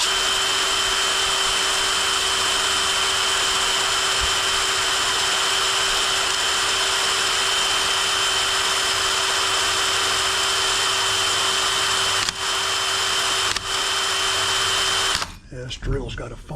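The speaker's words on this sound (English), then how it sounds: "this drill's got a faulty trigger" An electric drill with a faulty trigger whines loud and steady in a workshop for about fifteen seconds, broken by brief dips, then cuts out into clatter and handling noise.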